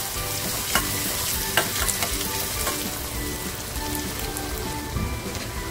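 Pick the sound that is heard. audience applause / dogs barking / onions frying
onions frying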